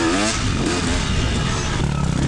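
Two-stroke dirt bike engine revving hard during a hillclimb race, loud and close, a continuous buzzing roar with rising and falling pitch.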